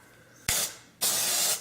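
Dry shampoo from an aerosol can hisses onto hair in two bursts, a short spray followed by a longer, louder one, close up with no talking.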